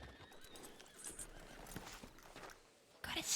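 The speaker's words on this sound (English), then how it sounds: "Horse, don't turn to kick me" A horse in the Red Dead online roleplay game neighs and its hooves clip-clop softly, faint and somewhat distant, with a brief louder burst near the end.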